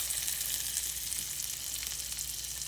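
Fish fillets sizzle in hot oil in a skillet, making a steady, bright frying hiss that stays close and even throughout with no voices.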